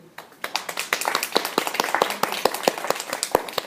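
A small audience at a storytelling coaching session claps, the individual hand strikes sharp and distinct, building from a quiet start into a brisk, fairly close round of applause that carries on steadily.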